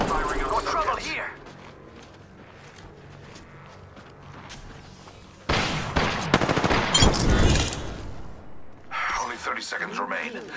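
Apex Legends gunfire during a battle royale fight, several loud rapid bursts of automatic fire in the second half, with a player's voice and in-game voice lines heard around them.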